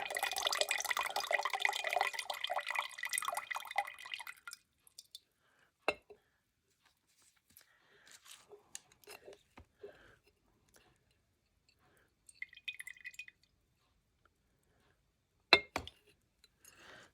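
Water runs and splashes for a few seconds, then stops; scattered small drips and clinks follow in near-silence, with a couple of sharper knocks, during rusting of metal.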